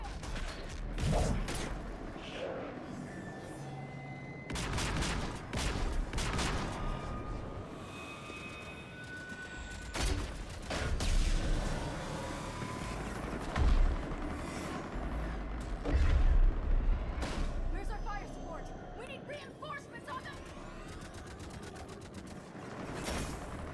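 Gunfire and artillery in a Mass Effect 3 battle: dense, overlapping bursts of shots and heavy booms roll on without pause, with mechanical clatter beneath and sharper blasts swelling around the middle and later stretches.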